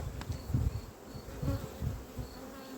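Honeybees buzz steadily at an opened hive frame during an acacia honey flow, a close, low, continuous hum that swells and ebbs without any talking.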